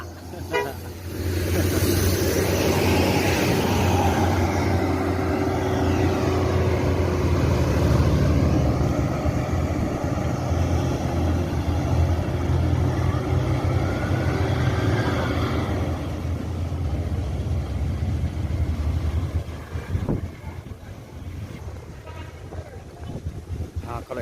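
Gumaran Jaya intercity bus engine running steadily at a terminal in Solok, a loud continuous rumble with wind noise and a horn toot, fading slightly near the end.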